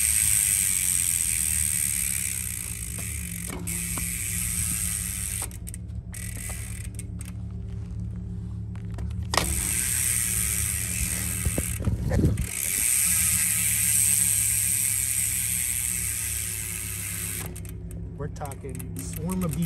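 Rear hub of a Trek Stache 7 hardtail mountain bike with a Rapid Drive 108 freewheel, a steady close whirring ratchet buzz while the wheel spins, with occasional clicks and knocks and a voice speaking over it at times.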